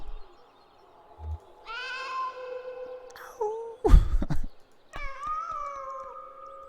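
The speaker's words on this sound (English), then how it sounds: "That cat just said hello." Cat meowing in the video game Kentucky Route Zero, several drawn-out, wavering meows close by, separated by short pauses and a sharp sliding cry in the middle.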